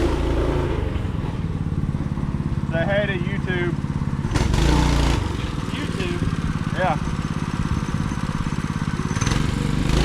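A small gasoline mini bike engine drones steadily in the background at a rough, mid-pitched idle. People talk casually over the running motor throughout.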